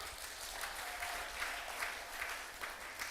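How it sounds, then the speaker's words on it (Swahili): A church congregation applauding in steady, rhythmic claps that rise in regular waves, a moderately loud crowd sound with no talk over it. "Mpe Bwana makofi ya shangwe."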